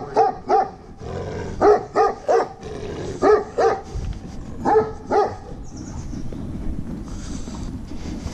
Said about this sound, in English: Big dog.